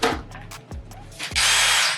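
A power drill whirs in short bursts, three brief spins followed by a longer sustained run, loud and close, while a backdrop is being hung.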